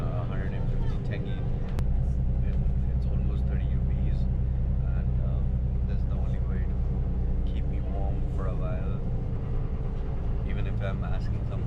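Steady low engine rumble inside a city bus riding through Almaty, continuous and close, with voices talking over it throughout.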